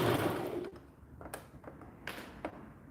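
A sewing machine back stitching fabric: a short burst of fast stitching that stops, followed by scattered light taps and clicks, quiet and close.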